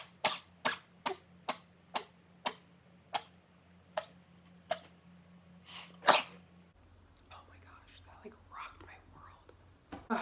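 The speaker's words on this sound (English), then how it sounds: "Ooh, I'm gonna sneeze." A run of about a dozen sharp sneezes from a person with a stuffy nose, spaced roughly half a second apart and ending in one louder burst, followed by softer sniffing and breathing.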